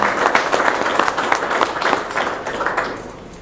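A crowd applauds in praise of God Almighty at a gathering. The clapping is dense and steady, with crisp overlapping hand claps and no voices, holding for a few seconds before easing slightly.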